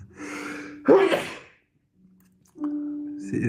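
A sharp intake of breath builds into a single loud sneeze, followed by quiet and then a humming voice.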